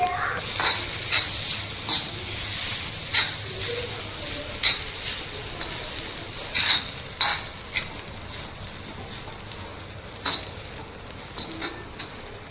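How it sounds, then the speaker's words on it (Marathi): Grated coconut roasting on a hot griddle, stirred with a utensil, giving a soft steady sizzle broken by frequent sharp scraping and tapping strokes against the metal, close with no voices. "तर बघूया मग हय तव तापता खोबराचा चांगला भाजून घेत"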